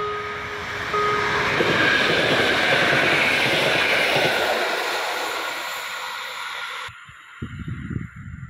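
A train rumbles through a railroad crossing in Benzelin, a loud close roar of wheels and cars with a brief warning tone, fading after several seconds and cutting to near silence with a few faint knocks at the end.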